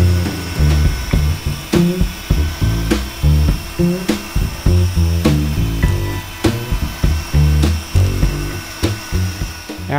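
Polishing pad buffing a cloudy acrylic lens, a rough whirring power-tool grind that pulses unevenly as the pad is pressed and lifted, loud and close throughout.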